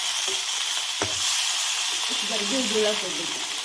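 Aubergine sautéing in black masala in a kadai, a steady broadband sizzle with a sharp stir clatter near the start and faint voices murmuring partway through.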